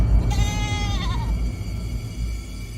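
A goat gives a single wavering bleat close by, rising over a low rumbling background and then trailing off.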